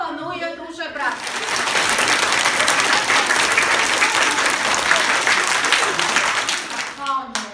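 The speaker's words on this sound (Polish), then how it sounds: "Proponuję duże brawo." Audience applause for the actors at a children's music event built around Brzechwa and Tuwim poems, starting after a brief spoken bit and holding as steady, dense clapping for several seconds before fading as talk returns.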